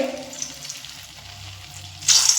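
Dumplings of elephant foot yam and lentils fry in hot oil over low to medium heat, a soft close sizzle that swells into a brighter, louder burst near the end.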